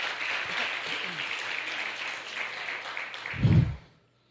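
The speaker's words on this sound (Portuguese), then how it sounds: "dê um aplauso muito forte para o Senhor Jesus" Church congregation at a Sunday service in Rio de Janeiro breaks into broad, even applause for several seconds, ending with a louder thump near the close before fading to silence.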